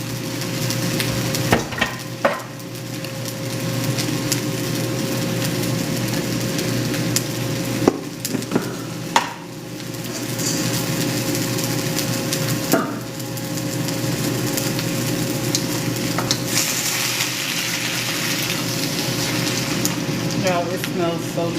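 Onions and bell peppers fry in a pan for a plant-based Beijing beef, a steady sizzle running throughout, broken by a few scattered clicks and scrapes of stirring, fairly close.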